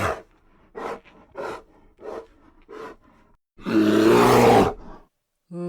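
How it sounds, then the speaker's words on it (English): A bear lets out a loud, deep, groaning roar lasting about a second, preceded by a series of shorter rumbling grunts. "If you guessed a bear,"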